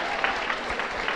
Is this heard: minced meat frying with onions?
no